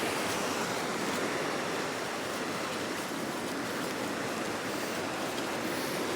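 Water rushes down a rocky stream toward a waterfall at Killiecrankie in autumn, a steady, dense roar of white noise that never breaks.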